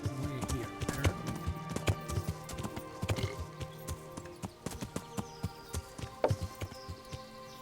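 Horse hooves clip-clopping at a steady walking pace in the medieval game Kingdom Come: Deliverance, close and fairly loud, with a faint whinny and ambient game sounds beneath.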